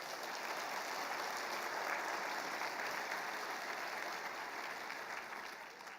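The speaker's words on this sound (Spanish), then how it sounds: "Demos un aplauso al Señor." Congregation applause in a church service, a steady wash of many hands clapping at moderate distance, sustained throughout and easing slightly at the end, with no voices standing out.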